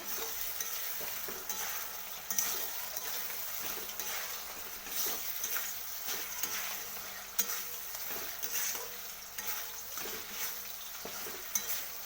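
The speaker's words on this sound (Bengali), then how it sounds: "তো দেখুন, মশলাটাকে দিয়ে দিয়েছি। এরপর আবার ভালো করে কষিয়ে নেব।" Spice paste frying steadily in a pan for a meatless bean-leaf paturi, with a constant sizzle and repeated scraping stirs throughout, close and fairly loud with no talking.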